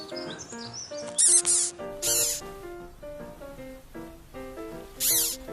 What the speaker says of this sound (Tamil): நம்ம வீடியோவில் 12வது இடத்த பிடிச்சிருக்குது கேட்டர்பில்லர்.